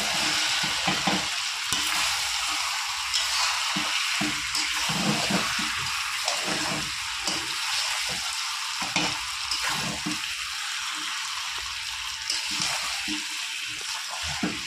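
Mutton with chopped tomatoes sautéing in a pan, a loud, constant wet sizzle and hiss with rhythmic stirring and scraping throughout.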